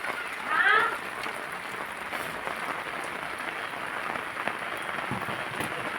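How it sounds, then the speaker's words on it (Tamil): Steady rain falls in a village, a dense continuous hiss of drops on surfaces throughout, with a brief voice near the start. "நல்ல மழைங்க"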